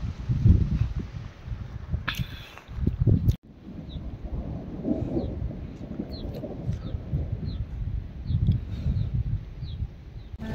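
Thunder rumbles in the high mountains on the road from Merak toward the Umling La pass in Ladakh, a long low roll heard through steady wind or vehicle noise, with faint bird chirps scattered over it.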